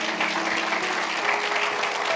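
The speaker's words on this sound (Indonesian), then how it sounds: "Kasih tepuk tangan untuk Tuhan." A church congregation applauds during a sermon, a steady wash of clapping from many hands that holds an even level throughout, with faint sustained musical tones underneath.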